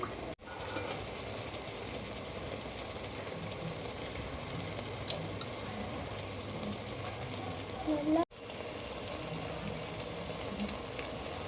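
Water is poured into a pot of chicken biryani, a steady running splash with faint clinks against a low kitchen background, broken by two brief cuts.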